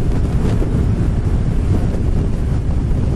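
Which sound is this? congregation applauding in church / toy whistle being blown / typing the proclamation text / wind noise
wind noise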